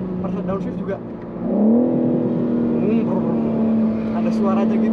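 A BMW M4 Competition engine downshifts, its pitch dipping then rising into a sustained higher whine, with a few faint voices and road noise underneath.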